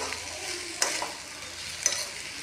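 Mango pachadi stirred in a pan over a low flame: a soft, low bubbling sizzle with two distinct scrapes of a spoon against the pan, fairly quiet and close, with no voices.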